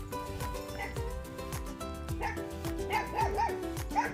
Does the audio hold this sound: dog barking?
yes